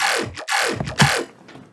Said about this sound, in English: Tonal delay, resonator, frequency shifter, so it sounds like this.